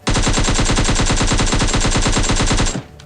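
Sustained automatic gunfire in PUBG Mobile, a loud, rapid, evenly spaced burst of shots running nearly three seconds before cutting off abruptly.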